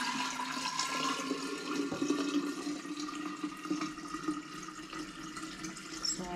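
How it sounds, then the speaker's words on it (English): Filtered water pours into a jar in a kitchen, a steady hissing, gurgling stream heard close and fairly quiet, running continuously with no talk. "I will take my jar over here. I will pour water in."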